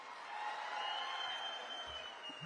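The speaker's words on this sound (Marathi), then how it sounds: "त्यांच्यासाठी जोरदार टाळ्या वाजवा." A crowd at a political rally in Ahilyanagar celebrating Ahilyadevi's birth anniversary breaks into steady applause, a dense sustained wash of clapping that holds evenly throughout.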